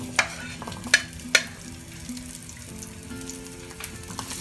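Small onions (shallots) sizzle and fry steadily in hot oil for a mint chutney, with a few sharp clinks of a utensil against the pan over the continuous crackle.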